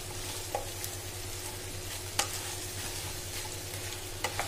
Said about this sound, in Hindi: हम इसे अच्छे से मिक्स कर लेंगे।